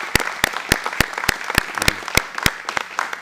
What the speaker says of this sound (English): come on, let's give them a little round of applause